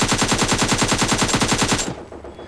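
AKM rifle in a shooting video game fires a rapid automatic burst of evenly spaced, loud, close shots lasting about two seconds before cutting off.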